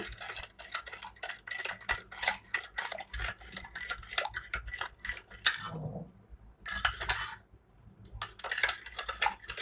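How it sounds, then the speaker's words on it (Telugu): Mango powder is stirred into water in a vessel with a spoon, giving rapid, continuous close clinks and scrapes of metal. The stirring pauses briefly twice before resuming. "మ్యాంగో పౌడర్ తీసుకున్నాను నేను నీళ్ళలో వేసేద్దాము బాగా మిక్స్ చేసుకుందాము"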